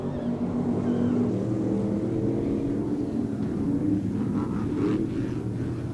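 Stock cars racing at Off Road Speedway make a continuous roar of engines, a dense low rumble that swells slightly as the pack passes, with no voices over it.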